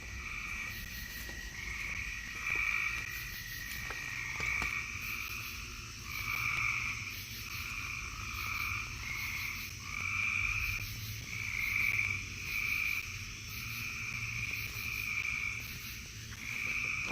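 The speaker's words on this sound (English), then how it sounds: "Oh yeah, it's mostly frogs." A chorus of frogs along a tree line in Illinois croaks in steady, pulsing trills, layered and continuous at a moderate distance, with no voices.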